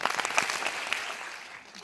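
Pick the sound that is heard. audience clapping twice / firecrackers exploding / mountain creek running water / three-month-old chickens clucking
audience clapping twice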